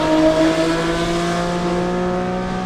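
BMW M2 Competition fitted with a Valvetronic Designs equal length exhaust, a loud, close exhaust note holding a steady high-pitched drone that slowly fades, with no voices.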